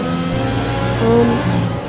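Formula 1 race car engine in the F1 2020 video game, a steady high-pitched drone accelerating into a corner at the Austria circuit, with revs swelling briefly midway.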